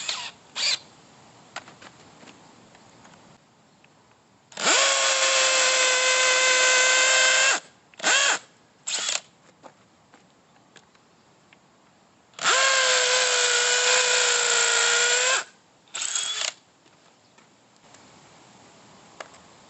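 A Stanley FATMAX V20 SBD721M2K cordless hammer drill bores 8mm anchor holes in two long, loud whining bursts of about three seconds each. Brief blips and quiet gaps of near-silence fall between them.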